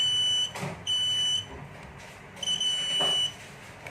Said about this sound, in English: then you will have the buzzer sound.